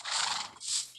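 A horse hitched to a cart in a farming video game neighs twice, a loud whinny followed by a shorter second call, with no talk.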